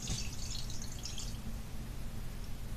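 About four ounces of water poured into a borax-and-glue slime mixture: a short, splashy trickling pour at the start that fades into quiet.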